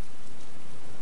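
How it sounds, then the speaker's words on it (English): Steady rain in the video game DayZ (Arma 2), a loud, dense, even hiss of falling raindrops with no breaks. "I need to find somewhere we can hide for this rain."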